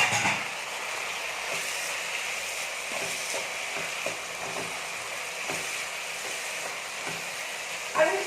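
Pepper-and-salt seasoned chicken frying in a pan for chicken noodles, giving a steady, even sizzle that runs throughout at moderate loudness, with faint stirring clicks and scrapes now and then.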